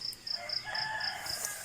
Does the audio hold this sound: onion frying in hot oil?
no